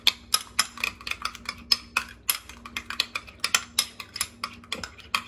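A spoon stirs spicy mayo, mayonnaise mixed with a little Sriracha hot sauce in a bowl, giving a steady run of quick, light clinks and scrapes close by with no talking.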